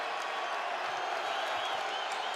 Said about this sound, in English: Here comes the crowd in Hartford